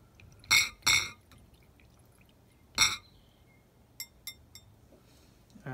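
A brand-new stirring stick knocks against a glass jar holding gasoline, sugar and water, giving a few sharp close clinks, two quick then one later, followed by softer light taps.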